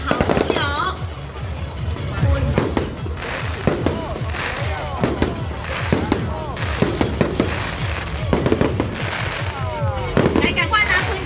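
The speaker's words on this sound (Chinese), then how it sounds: "直接来到我们的中心宫门口就可以看得到我们今天的高空烟火" Aerial fireworks at a temple festival celebrating the birthday of the Third Prince at Zhongxing Temple in Shulin, with repeated cracking bursts and pops continuing through the clip and a crowd and voices talking underneath.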